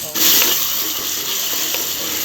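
Tomatoes sauté in a pan, a loud, close and steady frying hiss that runs unbroken through the short moment with no speech.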